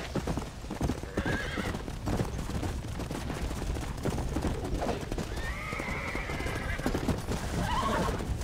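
Horse hooves clip-clop at a gallop with repeated whinnies and neighs in Red Dead Redemption: Undead Nightmare, while bursts of gunfire crackle in the background; no talking.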